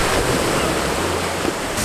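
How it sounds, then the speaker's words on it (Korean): Strong waves in a water park wave pool give a steady, dense wash of surf noise with faint splashing throughout, loud and close. "파도가 엄청 센데."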